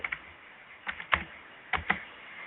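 Keys on a computer keyboard are struck in short separate bursts, a few quick clicks, then a pause and more clacks, close and crisp with quiet gaps between, no talking.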